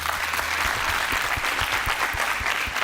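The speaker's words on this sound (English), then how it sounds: "A round of applause for that debate." Steady audience applause after a leadership debate show, a dense spread of many hands clapping at close range with a low rhythmic thumping underneath, continuous throughout.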